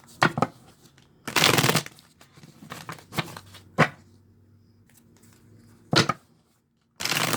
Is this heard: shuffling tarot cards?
yes